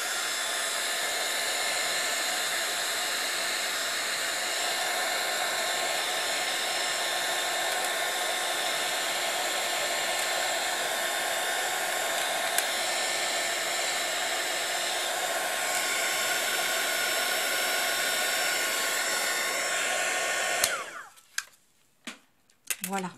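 Heat embossing tool blowing hot air onto a paper card, a loud, steady hair-dryer-like whoosh running continuously for about twenty seconds before cutting off, followed by a few faint clicks and handling noises.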